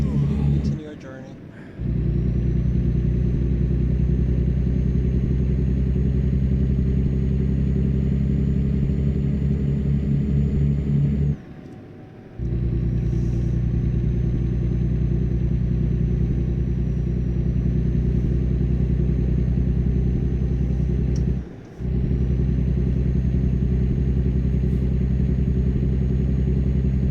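A truck engine in American Truck Simulator, a steady low droning rumble that runs almost the whole time, cutting out briefly three times before resuming at the same loud, even level.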